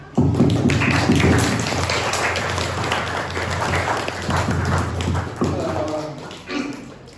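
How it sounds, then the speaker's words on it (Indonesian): An audience applauds at a school farewell ceremony for teacher trainees, dense clapping that swells at the start, runs steadily for several seconds and tapers, with voices talking over it. "Tepuk tangan lagi."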